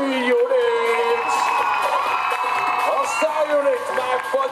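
An audience cheers, whoops and shouts loudly for a dance group taking the floor, a dense continuous crowd roar with children's voices rising above it.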